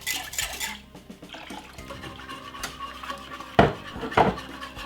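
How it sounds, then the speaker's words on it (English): Water splashes and a jug clatters against dishes while it is rinsed out in a kitchen where Jamaican porridge is being made, with clinks and sloshing that swell near the end. "I wanna wash out my jug."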